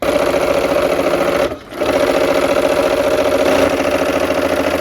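A sewing machine stitches a row of an autumn quilt, running loud and close with a steady whir, dipping briefly once and then carrying on evenly.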